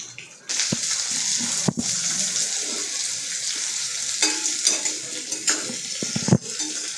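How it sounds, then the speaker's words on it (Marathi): Chopped onion frying in a pan for an okra dish, a steady close sizzle broken by sharp clacks and scrapes of a spoon stirring against the metal. "कांदा घालून घ्यायचा आहे यामध्ये आणि मिक्स करायचा आहे चांगला"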